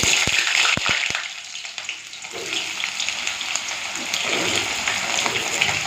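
Potatoes and pointed gourd drop into hot mustard oil with a few sharp crackles, then settle into a loud, steady sizzle and bubbling that fills the rest of the stretch, with no voices.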